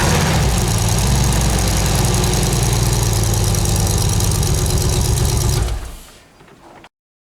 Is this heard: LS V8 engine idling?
yes